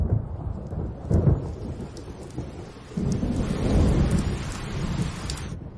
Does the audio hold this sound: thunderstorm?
yes